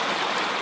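Water flows inside a pyramid in Hungary, a brief, steady and fairly loud rushing wash like a running stream, with no voices.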